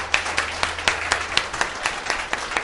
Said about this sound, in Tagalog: Yung matinding palakpak.